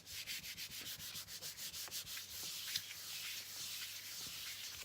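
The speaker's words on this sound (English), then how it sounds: "Give it a good rub." A card is given a vigorous rub, producing quick, regular, close swishing strokes that blur into a steadier, continuous scraping hiss toward the end, quiet and alone.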